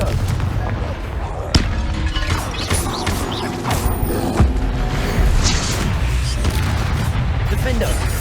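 Fire spell blasts like Confringo crash through a fast Hogwarts Legacy battle: loud, sharp booms and impacts repeat in quick succession, mixed with other spell effects and voices shouting spell names.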